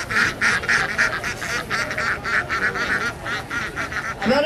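A flock of ducks quacks steadily and loudly at an outdoor fig fair, a dense rhythmic run of honking calls close to the listener throughout.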